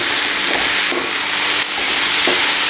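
Sprouted green gram stir-frying in a pan is stirred, giving a steady sizzle and hiss with a few soft scraping strokes, close and continuous.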